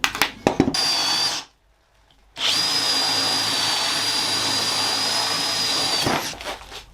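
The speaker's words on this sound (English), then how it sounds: "We're gonna drill those holes" Power drill boring holes in a woodworking track-saw hinge setup: a short burst of tool noise, a pause of silence, then a long steady high-pitched whine of the drill running before it winds down.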